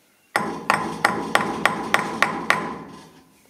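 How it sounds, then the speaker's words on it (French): A hammer taps on a metal nut eight times in a quick, steady rhythm, each strike close, bright and ringing, the resonance fading after the last blow. "taper sur l'écrou."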